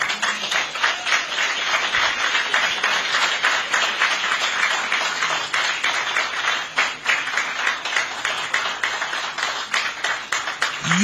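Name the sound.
audience applause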